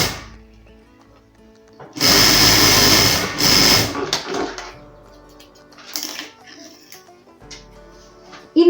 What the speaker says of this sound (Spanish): paso aquí una costura recta dejando pues como más o menos 1 centímetro desfasada la tela